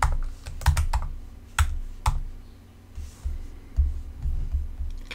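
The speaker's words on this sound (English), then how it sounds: "So I'm going to type in here." Keys clack on a computer keyboard in irregular bursts of typing, close and fairly loud over a low background hum, with no one speaking.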